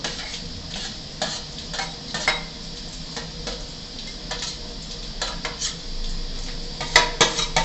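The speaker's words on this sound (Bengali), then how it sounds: "আমি এতে দিয়ে দিচ্ছি ফুলকপি আর আলুটা যেটা ভাজা ছিল" Fried cauliflower and potato pieces go into a pot of hot water, bringing irregular clatters and knocks of pieces and utensil against the pot over a bubbling, sizzling hiss.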